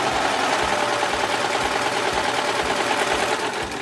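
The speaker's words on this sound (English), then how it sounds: "So I'm going to slide that in and start serging." A Brother Lock 1034D serger runs steadily while serging clear elastic, a continuous close mechanical whir with a fast rhythmic chatter and no talking.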